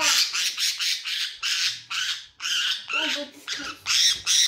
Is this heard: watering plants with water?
no